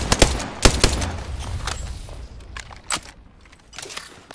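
Rapid bursts of gunfire ring out in the video game Nutty Arenas, loud close cracks coming in irregular clusters with short gaps, over a rough background wash.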